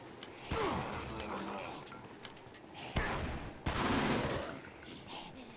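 Gunfire rings out in the video game Dead Rising, set in a shopping mall: a few sharp, loud shots and short bursts stand out over a low, rumbling game background.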